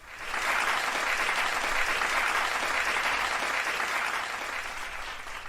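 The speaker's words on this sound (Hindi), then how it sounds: "वाह डॉक्टर साहब, इस बात पे तो ताली बनती है।" Studio audience applause rings out steadily and loudly for several seconds at a health talk show on long life, a dense, even wash of many hands clapping with no voices over it.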